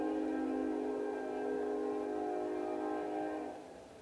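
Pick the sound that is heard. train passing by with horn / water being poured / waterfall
train passing by with horn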